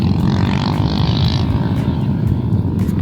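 Motorcycles and jeeps rumble past on the route near Bromo volcano in East Java, a loud, continuous low engine drone that swells and rolls on without a break.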